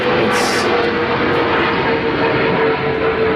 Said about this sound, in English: there's never a good time with these goddamn airplanes